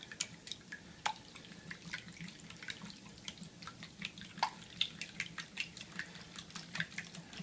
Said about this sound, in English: And we'll put it all together with our trusty wire whip.